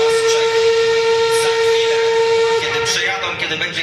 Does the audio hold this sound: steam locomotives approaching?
yes